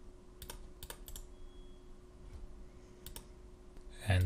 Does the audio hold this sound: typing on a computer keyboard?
yes